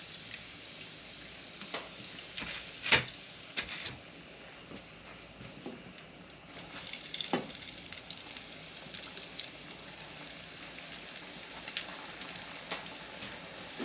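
Jalapeno poppers fry in hot grease with a continuous crackling sizzle and scattered pops, moderately loud and close throughout with no talking.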